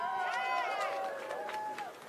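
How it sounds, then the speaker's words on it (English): Crowd at an outdoor student debt cancellation rally cheering and clapping, steady broadband applause with whoops and shouting voices layered on top, fairly loud and sustained throughout. "Let's give a round of applause for Maddie."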